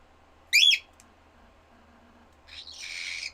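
A pet bird lets out a short, sharp shrieking call, then after a quiet pause a longer harsh screech follows, both fairly close and loud with no talk.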